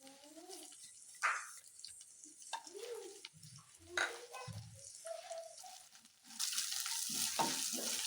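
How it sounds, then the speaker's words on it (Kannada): Garlic, grated ginger and cumin fry in tempering oil for chicken manchurian, a faint, uneven sizzle with soft crackles that swells louder toward the end. "ಚೆನ್ನಾಗಿ ಫ್ರೈ ಆಗಲಿ. ಬೆಳ್ಳುಳ್ಳಿ ಶುಂಠಿ ಎಲ್ಲ ಹಸಿ ವಾಸನೆ ಹೋಗೋ ಥರ."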